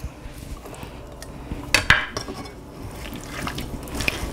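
Utensil clinks and soft wet scraping as spicy peanut udon noodles are stirred in a pan, a few sharper knocks among quiet clatter, close and without talk.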